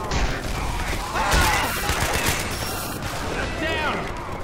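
Rapid bursts of gunfire in Left 4 Dead 2 crackle loud and close, overlapping into a sustained fusillade with voices shouting underneath.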